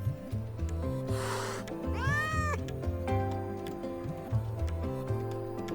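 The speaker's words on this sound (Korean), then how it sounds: "아카데미에 등록된 고양이는 아닌 것 같은데 어디로 보내야 할까?" A small cat in Wuthering Waves gives a couple of distinct, wavering meows close up, over a soft ticking rhythm and gentle background music.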